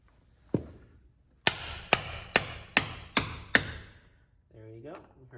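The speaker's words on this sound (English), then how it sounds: "We got this, and then a hammer." Six sharp metallic hammer taps seating a grease cap into a GMC motorhome rear wheel hub in a steady rhythm after one earlier tap, close and crisp, followed by a brief voice.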